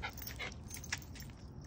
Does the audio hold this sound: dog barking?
yes